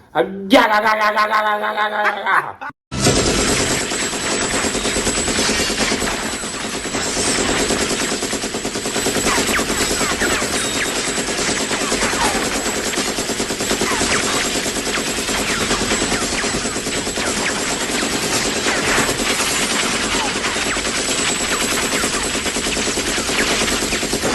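Rapid bursts of AR-15 rifle gunfire shooting up stacked cases of Bud Light beer, a sustained loud fusillade of shots with explosive hits running throughout.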